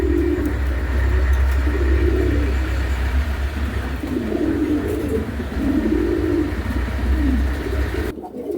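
Lotan pigeons coo in repeated low, rolling phrases close by, over a steady low hum of background noise, with no talking.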